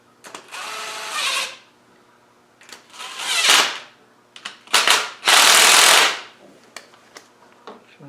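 A power tool spins adjuster bolts down on a Land Rover 300Tdi in several separate bursts, each a rising high whirring buzz lasting about a second, with short quiet pauses in between and faint workshop clatter.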